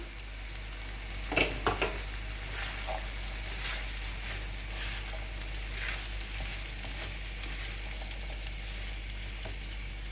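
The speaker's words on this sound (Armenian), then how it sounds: "Դդմիկն էլ տապակվեց, իսկ այս պահին ավելացնում եմ կանաչ ոլոր" Zucchini and green peas fry in butter in a pan with a faint, steady sizzle and a low hum beneath it. A few sharp clinks and scrapes come early on, then softer stirring sounds continue. No one speaks.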